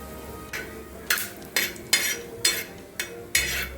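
Whole spices and coriander seeds being dry-roasted and stirred in a pan for Kolhapuri misal masala, a spoon scraping the pan in about seven regular, close strokes over a faint background hum.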